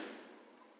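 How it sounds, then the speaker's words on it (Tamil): Diwali firecrackers roar as a dense, steady wash of crackling bursts that fills the moment without a break, loud and continuous with no voices. "எங்க பார்த்தாலும் பட்டாசு சத்தம் காது பிச்சுக்கிட்டு போகுது"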